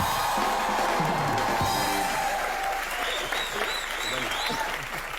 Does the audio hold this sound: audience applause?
yes